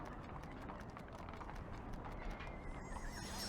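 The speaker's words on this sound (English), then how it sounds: "I can hear soldiers and horses." Horses clip-clop and whinny amid a busy background of soldiers moving at barracks in The Lion's Song video game, with hooves beating in a steady rhythm and a neigh rising near the end.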